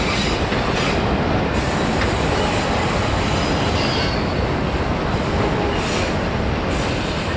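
A long Norfolk Southern freight train rolls past in El Paso, loud and close, with a continuous roar of wheels on rail and squealing, plus faint clickety-clack. It carries on unbroken, with no voices.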